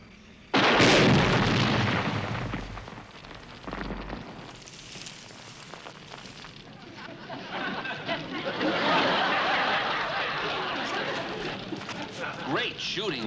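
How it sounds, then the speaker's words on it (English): Gunshots aimed at a car's tires and a gasoline tank explosion in a Hogan's Heroes scene, a loud sudden blast near the start followed by rumbling, crackling aftermath and voices talking. "You hit the gasoline tank, not the tires."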